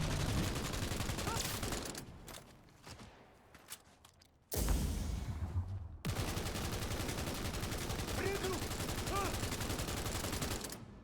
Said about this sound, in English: There's like new sound effects too when you hear bullets go flying by you.